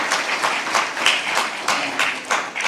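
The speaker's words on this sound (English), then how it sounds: "Let's give applause to IBN for this thing." Audience applause at the opening ceremony of the Nepal Investment Summit 2024, a steady wash of many hands clapping, fairly loud and continuous with slight surges, filling the hall without speech.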